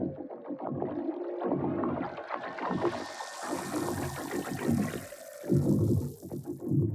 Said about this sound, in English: what if it's not straight up water, but maybe sci-fi water?